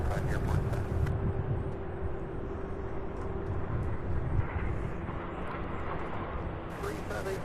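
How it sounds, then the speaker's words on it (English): A Boeing 737 MAX 8 at Louisville International Airport sends out a broad, continuous engine roar and rumble that carries at a moderate distance, with a voice talking faintly over it. "Sound coming out of the 737 MAX 8"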